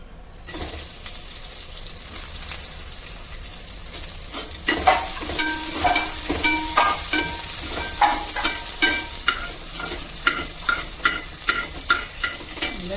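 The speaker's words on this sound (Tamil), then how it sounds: "இதில் இந்த பக்கம் பன்னீரை வந்து ஃப்ரை பண்ணி எடுத்துக்கலாம்." Paneer fries in a pan with a continuous close sizzle, joined midway by a run of rhythmic scraping stirs that knock against the pan.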